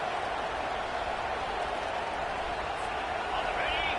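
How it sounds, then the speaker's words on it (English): Crowd noise at a college football game, a steady broad roar and scattered applause from a packed stadium, continuous and fairly loud, with voices audible in the mix. "The roar of the crowd trying to fuel this defense to keep them pinned in their own end"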